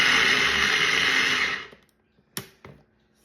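A Pampered Chef Twist and Chop hand chopper whirs loudly while cutting onion for salsa, then stops, followed by two sharp plastic clicks close by.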